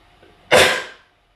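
A single sharp sneeze bursts out close to the mic in a quiet room, starting with a sudden blast and trailing off over about half a second.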